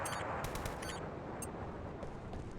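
Video game gunfire from SOCOM US Navy Seals II, rapid automatic bursts crackling in clusters over a dense, constant battle rumble, with a lone shot later.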